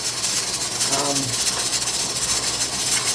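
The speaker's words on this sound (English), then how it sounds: "what happens when it jiggles is that you're losing, it's allowing steam, pressure to escape" Steam hisses steadily from the jiggler on a Presto pressure canner, a loud, constant broadband rush, and a voice speaks briefly over it.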